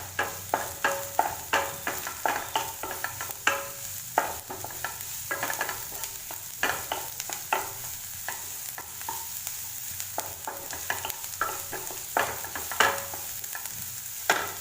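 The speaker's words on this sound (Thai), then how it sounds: "ผัดไปค่ะหัวหอม จนกว่าจะเป็นสีน้ำตาล" Onions stir-fried in a pan for a potato and pea curry, with steady sizzling and frequent scraping strokes of the spatula in a quick irregular rhythm, close and fairly loud, with no talk.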